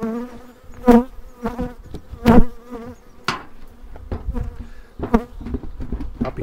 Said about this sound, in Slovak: Dnes to tu riadne žije, všielky bzučia